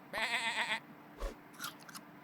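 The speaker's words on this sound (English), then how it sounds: "we'll probably want to copy the sheep with our parrot." A sheep bleats in the Super Auto Pets video game: a wavering, harmonic bleat lasting about half a second, followed by a few short, quieter clicks and rustles. No voices are present.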